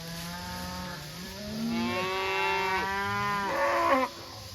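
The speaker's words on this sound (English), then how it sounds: "I love being with my cows" Cattle on a grazing farm lowing, with several drawn-out moos that rise and bend in pitch, one cow following another, fairly close and clear with no talk.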